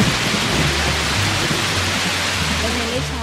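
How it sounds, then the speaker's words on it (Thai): Dense, steady rain with low rumbling thunder, used as a sound effect in a children's story, a loud continuous wash with no voices. "และหลังจากนั้นฝนก็ตกลงมาอย่างรวดเร็ว"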